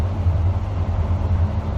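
Car traffic heard from inside a moving car, a steady low road rumble and engine drone with no other sounds standing out.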